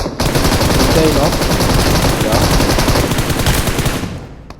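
Rapid automatic gunfire in PUBG on the Erangel map, a loud burst of machine-gun-like shots firing in a fast rhythmic stream for several seconds before cutting off.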